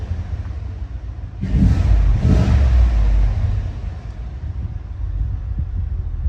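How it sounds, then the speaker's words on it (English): Cadillac Escalade V8 fitted with an upgraded exhaust and a DOD delete, revved at idle in two quick bursts of deep low rumble before settling back to a steady idle hum. "Revving it up."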